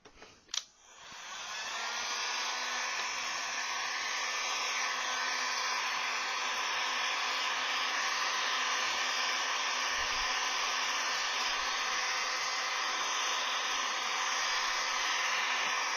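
A heat gun blows a steady, loud hiss while heating a plastic gauntlet for forming; after a click it powers up and runs unbroken for about fourteen seconds.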